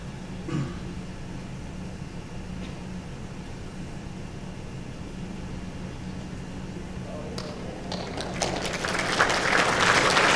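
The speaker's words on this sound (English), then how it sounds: "Nice to hear the people in the crowd enjoying themselves and getting involved in the game" At the 2015 World Bowls Championship, a lawn bowls crowd breaks into applause and cheering that swells over the last couple of seconds, rising from a quiet background hum.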